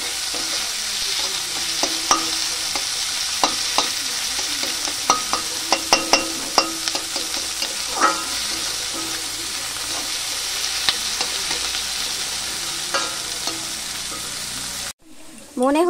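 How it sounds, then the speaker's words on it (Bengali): Onion frying in a pan on a gas stove with the flame turned up, a steady close sizzle broken by scattered clinks and scrapes of stirring, then cut off abruptly near the end. "একটু ভালো করে পেঁয়াজটা ভেজে নেব।"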